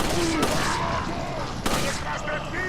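Gunfire in the video game Resident Evil 4, two sharp shots about a second apart over a dense, loud game soundscape, with some background voice activity.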